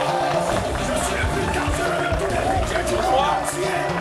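Studio audience on a French evening game show greets the arrival of a guest, the star bachelor, with a steady, dense roar of cheering and applause that holds loud and even throughout.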